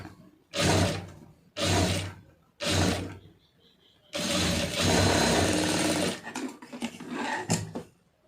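A sewing machine stitches the lining of a blouse in close, loud runs, first three short bursts and then one longer steady run of about two seconds, followed by a few brief stitches.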